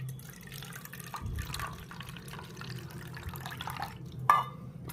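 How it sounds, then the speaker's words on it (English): Water poured from one bowl into another, a soft continuous trickle and splash close by, fairly quiet, ending with a brief sharper clink. "Pour it in another bowl."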